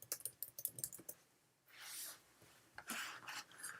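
Quick bursts of typing on a computer keyboard patter close and faint, broken by a few softer rustling pauses.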